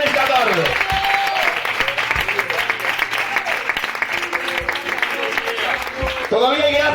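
A church congregation claps loudly during a sermon, a sustained crackle of applause mixed with shouts and the preacher's voice over a PA system.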